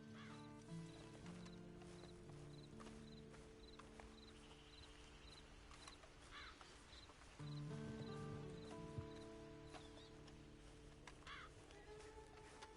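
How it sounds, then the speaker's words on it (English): Steady clip-clop of horse hooves in a video game in a slow rhythm, with occasional snorts and a whinny over a low ambient hum and rustling. "Then you better get on this horse."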